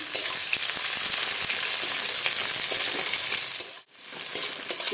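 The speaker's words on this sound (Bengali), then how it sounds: "পেঁয়াজগুলো একটু লাল হয়ে আসবে" Chopped onion frying in oil in a pan for a shol fish dish, a loud continuous sizzle with faint stirring scrapes, dipping briefly near the end before resuming.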